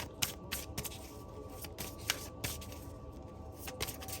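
Oracle cards are shuffled in quick, crisp bursts of riffling and slapping, repeating irregularly, close up and fairly loud, with no speech.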